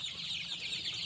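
Sonali chickens on a poultry farm in Kharagpur, West Bengal, make a soft, continuous flock murmur of clucks, faint and somewhat distant, over a short stretch.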